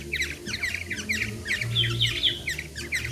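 Black-naped oriole (kepodang) calling repeatedly in quick bright chirps and whistles, near and fairly loud over a low steady hum.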